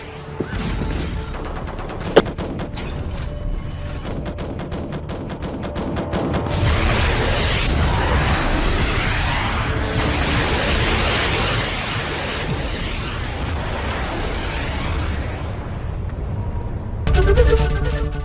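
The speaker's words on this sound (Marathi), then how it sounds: "ही सोवियत बनावटीची स्वयंचलित विमान विरोधी तोफ आहे, जी 4 23 मिमी तोफांनी सुसज्ज" A Soviet-made automatic anti-aircraft gun with four 23 mm cannons fires in repeated bursts, a dense rattling of shots with a sharp bang early on, then sustained heavy roaring blasts.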